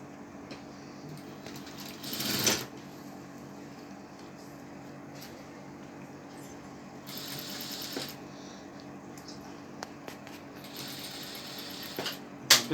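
A sewing machine stitching a baby blouse in a tailor's shop, a quiet rapid mechanical ticking running through, with a few louder whirring bursts and handling noises.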